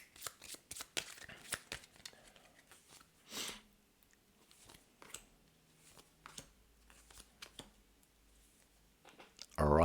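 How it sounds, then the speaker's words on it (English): Game cards being shuffled by hand, a rapid series of crisp riffling clicks and snaps with a few louder bursts, close and quiet, with soft voices nearby. "Shuffle these back up."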